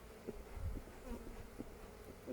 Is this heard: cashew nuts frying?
no